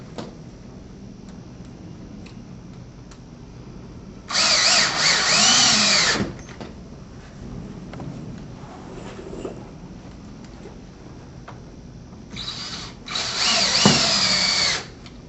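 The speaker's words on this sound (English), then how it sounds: "we can continue to install the remainder of the bugle head screws into the pre-drilled holes" A power drill drives bugle head screws into pre-drilled holes while installing decorative panels on T-posts, whining loudly in two separate bursts of roughly two seconds each, with quiet stretches between them.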